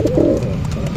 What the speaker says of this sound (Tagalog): Yun mga kalapatids, dalawa na nga yung nakauwi sa atin.